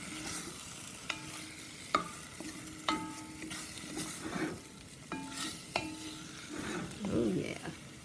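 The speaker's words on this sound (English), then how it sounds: "Now I'm going to take a little flour here and kind of create a roux." Flour roux cooking with browned beef for stew, stirred in a pot: steady low sizzle under repeated sharp scraping clicks of a utensil against the pan, close and moderately loud, with no talking.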